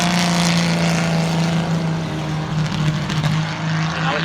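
Racing cars at Silverstone, including a 5.3-litre V12 Jaguar and a 1600cc four-cylinder Ford Fiesta, drone past trackside with a steady engine hum that swells and fades slightly over a few seconds.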